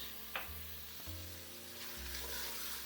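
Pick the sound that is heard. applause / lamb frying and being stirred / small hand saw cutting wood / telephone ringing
lamb frying and being stirred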